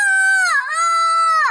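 A voice imitates a rooster crowing with a single loud, drawn-out, pitch-bending call, heard clearly and alone on a street in Thailand.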